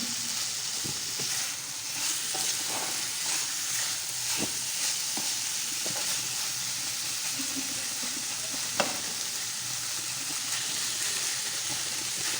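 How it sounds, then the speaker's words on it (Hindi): Bottle gourd and tomato sautéing in a pan for lauki sabzi, a steady close sizzle and hiss with occasional scrapes of stirring throughout, no talking. "अब लौकी गल गई है, टमाटर भी, इसको बस थोड़ा सा भून लेते हैं"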